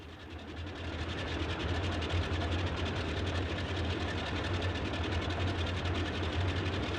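Boeing 247D piston engines running in Microsoft Flight Simulator, a steady loud droning rumble with a fast even throb that holds constant throughout, with no voices over it.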